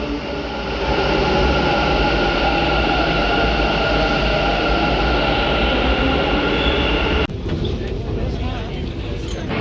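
A metro train rumbles at a metro station with a loud, steady roar, then the sound shifts abruptly to a thinner, hissier rush; voices may be present.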